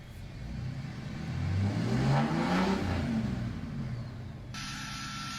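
A 6.7 Cummins diesel truck engine revs up and passes by, exhaust rumbling louder to a peak then fading, heard from nearby with no talk.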